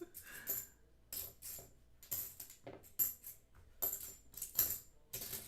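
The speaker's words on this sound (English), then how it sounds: "I know what a magic coin sounds like now." A half dollar coin dropped onto a hard surface several times, giving bright metallic clinks and short ringing bounces in quick bursts, fairly close and moderately quiet.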